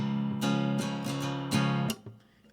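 An acoustic guitar chord strummed in a chorus rhythm: about half a dozen bright strokes in an uneven pattern, near and moderately loud, then a short fading tail, with no voice.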